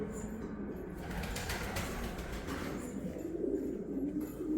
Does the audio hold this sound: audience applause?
no